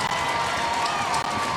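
Stadium crowd at an NWSL women's soccer semifinal applauding a player being substituted off, a steady wash of clapping and cheering at a distance.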